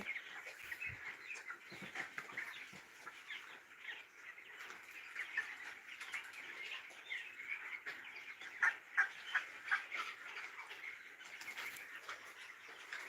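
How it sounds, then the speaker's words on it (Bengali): Chickens on a poultry farm holding around two thousand birds cluck and chirp faintly in a soft, continuous chatter, with a few slightly louder calls near the middle. "অনেকগুলো মুরগি আছে এখানে প্রায় দুই হাজারের মতো দুই হাজারের মতো মুরগি আছে"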